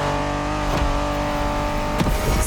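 A Honda NSX engine in the racing video game The Crew Motorfest hums steadily and loudly, with brief revving surges.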